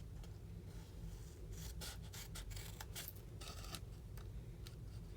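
Cardstock paper being cut close up, faint scissor snips and rustles in irregular bursts over a steady low hum.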